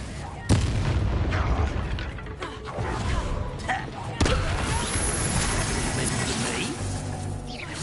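Confringo fire spell explosions in the Hogwarts Legacy game burst loud and close: a heavy blast, a rumbling roar, then a second strong boom that trails off, with a character's voice shouting under the din.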